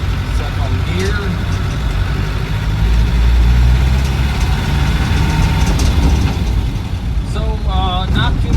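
A 1986 ex-military Land Rover 110 engine pulling in second gear, a loud steady mid-pitched drone from inside the cab with little sound deadening, the revs rising and settling as the gear is held.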